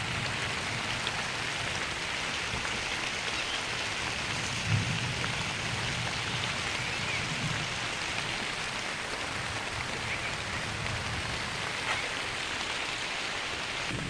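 Continuous rain falls evenly and fairly loud in rural Konkan, a dense wash of drops with no talking.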